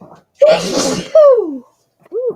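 A single loud sneeze, followed by a short exhaled exclamation and a brief murmured voice.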